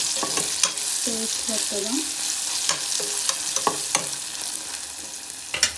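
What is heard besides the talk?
onions frying and being stirred for egg biryani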